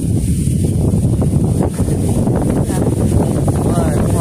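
Strong wind buffets the microphone outdoors near boats on the water, making a loud, continuous rumbling roar. Voices talk over it throughout.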